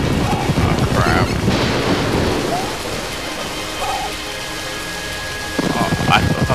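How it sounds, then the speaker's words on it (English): A video-game thunderstorm from Mushroom Kingdom Fusion, with steady rain hiss and low rumbling thunder that swells, eases into a quieter stretch, then builds again while someone talks intermittently. "There's quite a storm that's going on"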